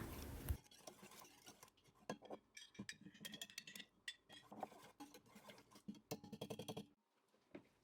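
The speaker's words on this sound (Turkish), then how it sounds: "biraz da tuz ekleyerek karıştıralım." Utensil scraping and clinking against a pot in irregular strokes while stirring spinach borani with salt, close by, with short pauses and a quiet stretch at the end.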